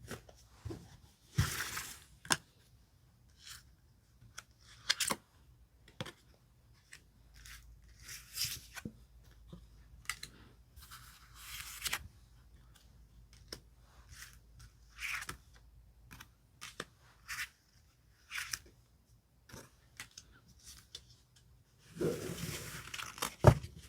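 Tarot cards are shuffled, slid and picked out one by one on a table, making close, quiet crisp flicks and rustles at irregular intervals, with a longer burst of shuffling at the end and no talk.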